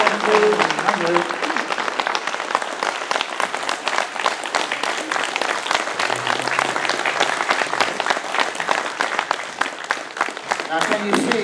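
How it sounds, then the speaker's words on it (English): A conference audience at a UFO event gives sustained applause, a loud, even roar of many hands clapping for several seconds, with brief voices audible beneath it near the start and end. "Round of applause."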